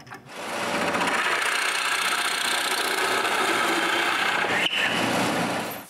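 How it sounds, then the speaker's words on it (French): Steady whirring of a power drill boring large holes through wood, a continuous motor drone lasting several seconds with one brief dip near the end before it winds down. "Je dois changer de mèche et percer tous les gros trous."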